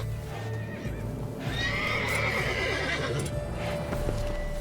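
A horse in The Witcher 3 video game whinnies loudly once over soft hoof clip-clops and a low steady background.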